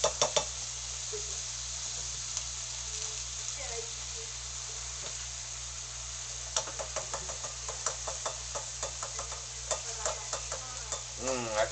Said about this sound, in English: I can smell that steak cooking